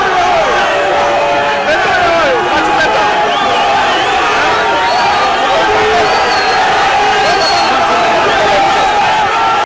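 A large crowd outside an airport greets the president and his wife, a steady dense roar of voices with scattered cheers and whoops over continuous chatter, loud and close throughout.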